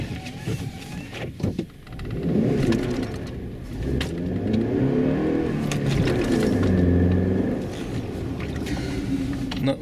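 Honda CR-V pulling away on snow with traction control on, the engine revving and straining as the car moves off, loud and continuous with a wavering tone, no talk.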